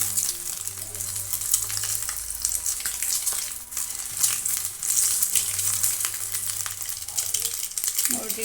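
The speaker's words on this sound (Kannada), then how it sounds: "ಹಾಗೆ ಫ್ರೈ ಮಾಡ್ತಾ ಇದ್ದೀನಿ ನೋಡಿ. ಈ ಥರ ಕಲರ್ ಬರೋವರೆಗೂ ಫ್ರೈ ಮಾಡ್ಕೊಳ್ಳಿ." Eggs fry in hot oil in a pan for egg biryani, a continuous close sizzle with occasional stirring, while a person talks over it.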